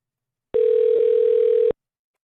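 A telephone dial tone sounds loud and steady for about a second, starting and stopping abruptly, on a call that is not dialing.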